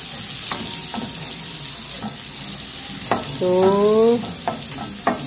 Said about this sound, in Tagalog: Halo-haloin yung pampalasa para bumango yung ating lutuin ulam.